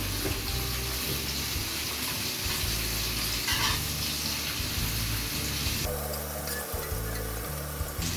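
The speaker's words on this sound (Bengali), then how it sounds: "পেঁয়াজ, রসুন, আদা আর ধনে পাতা এগুলো ভাজছি।" Onion, garlic, ginger and coriander leaves frying in a pan for prawn pulao, giving a dense continuous sizzle, close and fairly loud, with the texture shifting partway through.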